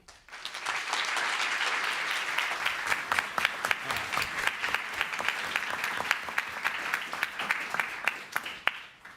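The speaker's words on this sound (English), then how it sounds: "You really probably shouldn't be applauding for me" An indoor audience applauds to welcome a host, a sustained wash of many hands clapping that starts abruptly, holds strong, then thins into scattered individual claps toward the end.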